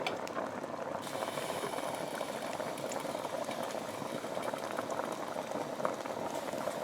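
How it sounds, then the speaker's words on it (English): Rabbit stew boils hard in a pot, a dense steady bubbling and popping that goes on without pause, close and moderately loud. "See that? It's boiling."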